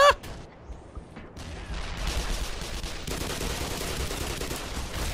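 Gunfire in the video game Black Mesa, a sharp shot at the start followed by a dense noisy clatter of rapid fire and debris that fills the rest of the moment at moderate volume.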